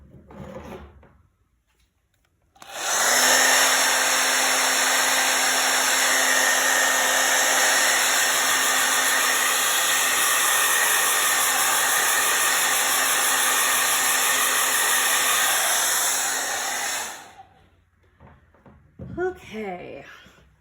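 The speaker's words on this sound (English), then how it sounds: "let me see if I can get my blow dryer" A blow dryer runs steadily for about fourteen seconds to dry yellow paint on a fish painting, a loud continuous whir and hiss that starts and stops abruptly, with quiet sounds of handling before and after.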